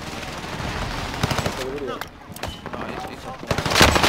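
Gunfire in a video game: a rapid series of sharp shots and bursts, fairly loud and close, breaking up in irregular clusters over a busy background with someone talking.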